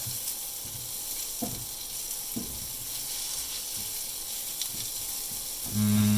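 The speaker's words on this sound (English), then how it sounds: "Now it's even more crucial to continue stirring because we have our garlic in there now." Garlic sizzles steadily in a hot pan while being stirred for pad thai, with soft scrapes and clicks over a constant hiss and a short steady tone near the end.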